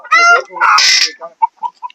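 Desi chickens on a farm near Pune: a loud, close, drawn-out crowing-like call, then a few short, separate clucks trailing off.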